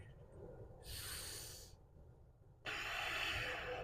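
Slow, deep breathing while a yoga pose is held, two long airy breaths close to the microphone, the second starting abruptly and louder, with quiet pauses between them.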